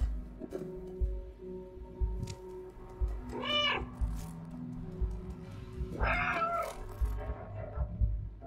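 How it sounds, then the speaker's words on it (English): A cat meows in the video game Stray, with two clear rising-and-falling meows several seconds apart over low ambient game rumble and soft thuds. "should I just be meowing at everything then?"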